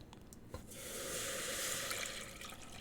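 Water pours into a cooking pot that already holds brown sugar, a soft, steady rushing stream that swells after a brief clink and runs continuously, quiet and close.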